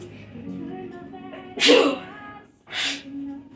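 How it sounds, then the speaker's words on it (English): A single loud sneeze bursts out near the mic during pie baking, with a second shorter sneeze-like burst a moment later, over faint kitchen background. "Don't sneeze on your pie crust, please."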